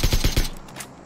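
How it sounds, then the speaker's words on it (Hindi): Suppressed gunfire in the video game PUBG comes as a quick burst of four or five muffled, evenly spaced shots, followed by a couple of fainter pops as it tails off. "सप्रेसर के गन की ना आवाज तो ओपी है"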